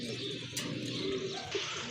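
Domestic pigeons in a loft coo in low, soft, repeated tones, close by and steady over a faint background hum, with no talking.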